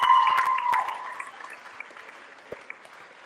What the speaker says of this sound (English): there was a huge cheer at the end there